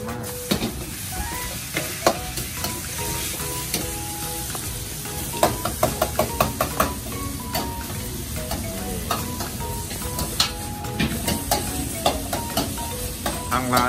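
Pad thai noodles stir-fried in a hot pan at a Thai street-food stall abroad, with continuous sizzling and frequent metallic scrapes and clanks of the spatula against the pan, close up.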